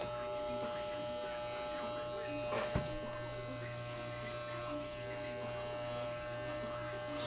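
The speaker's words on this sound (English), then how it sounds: "I don't like to stop shaving mid-shave." Electric clippers shaving the fur of a fursuit, a steady close buzzing hum running throughout with a brief louder scrape near the middle, with talk in the background.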